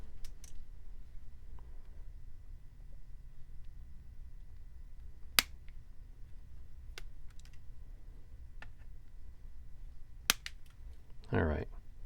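Sharp, isolated clicks and snips ring out as small plastic pieces are trimmed off an RC plane servo arm, with a few close cuts spread over a quiet room and a brief rustle near the end.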